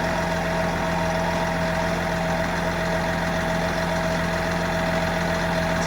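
Boat or vehicle engine with a Balmar alternator charging, running steadily at raised RPM around 750 to 850, a loud continuous hum with a constant drone and vibration throughout.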